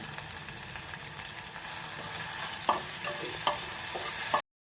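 Tomato and gram flour stir-fried in a hot tempering for a Maharashtrian dal, with a steady close sizzle and a few distinct spatula scrapes against the pan, ending abruptly.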